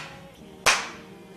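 One sharp, crisp hand clap in a quiet room to mark the start of filming an interview, standing out alone against faint background hiss.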